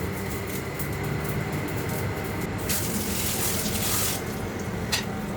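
Water poured off from a full cooking pot of vegetables and broth, a steady splashing stream into a sink that swells briefly in the middle, with kitchen hum beneath.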